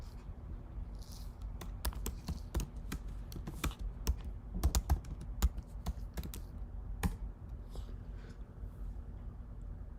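Typing on a computer keyboard, a steady run of close, crisp key clicks with uneven rhythm and occasional heavier taps, heard alone without speech.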